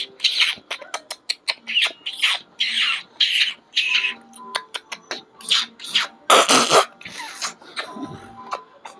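A man imitates an assortment of morning bird calls, producing rapid bursts of shrill chirps, whistles and squawks close up, with brief pauses between phrases and no other voices.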